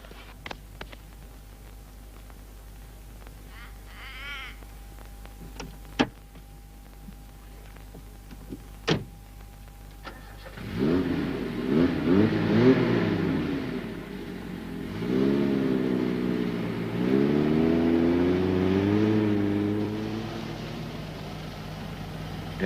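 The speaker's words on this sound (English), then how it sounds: "just get in the car and just drive the damn thing out" A car stuck in sand, with its tyres let down, starts up after a few clicks and knocks, then its engine revs in rising and falling surges, loud and close, as it drives out.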